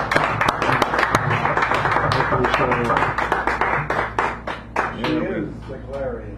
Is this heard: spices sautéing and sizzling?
no